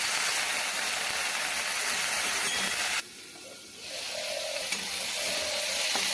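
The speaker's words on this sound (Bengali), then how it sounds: "কড়াইতে তেল দিলাম, রসুন দিলাম, শুকনো লঙ্কা দিলাম, কালো জিরা দিলাম আর পটল কুচিগুলোকে দিয়ে নুন দিয়ে" Chopped pointed gourd frying in oil with garlic, dried red chilli, black cumin and salt, a loud steady sizzle that drops suddenly, then returns more softly with light stirring.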